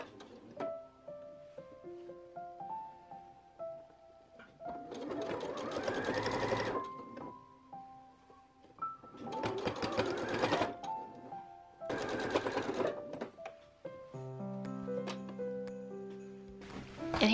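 A sewing machine stitches along the edge of a lace scrunchie in several loud, sustained runs separated by pauses, with a musical backing throughout.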